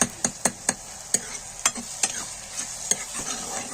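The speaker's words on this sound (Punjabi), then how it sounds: "ਹੁਣ ਆਪਾਂ ਬੈਂਗਣਾ ਨੂੰ ਆ ਜਿਹੜਾ ਚੰਗੀ ਤਰ੍ਹਾਂ ਮੈਸ਼ ਕਰ ਲਾਂਗੇ" Eggplant bharta being mashed and stirred in oil in a pan, heard as a rapid series of sharp utensil knocks against the pan over a low sizzle, close and steady.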